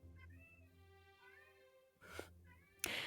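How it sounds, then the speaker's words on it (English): A pet cat wandering into a bedroom, making soft meow-like vocal sounds, then a brief breathy rustle and a sharp louder burst near the end. "my cat came into my room and is being beautiful"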